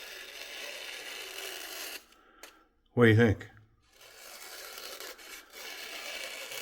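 An Ozark Trail knife cuts through material with a dry, rasping scrape that runs steadily, stops briefly while a man asks a short question, then resumes close by.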